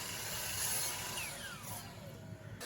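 A power saw cuts a nine- or ten-inch piece from a tongue and groove pine board, with a steady, whirring roar and a motor whine that slides downward as the blade winds down.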